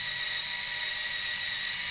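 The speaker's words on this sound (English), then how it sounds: "Maguire's cutting compound 105 with a sponge pad disc in a hand drill." A hand drill spinning a sponge pad disc loaded with Meguiar's cutting compound 105 while polishing the flattened lacquer finish on a Telecaster-style guitar body, giving a steady, continuous high whine with no pauses.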